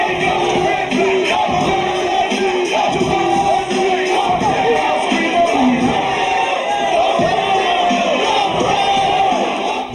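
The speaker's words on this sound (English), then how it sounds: "they're chanting over me" A large crowd at a hip-hop freestyle battle chants loudly and continuously, voices merging into a dense, rhythmic roar that dominates throughout.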